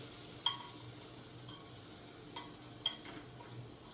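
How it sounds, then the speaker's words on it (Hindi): Onions fry in oil in a pan, giving a faint, steady low sizzle with a few soft clicks from stirring scattered through it. "अब प्याज भूनना होगा"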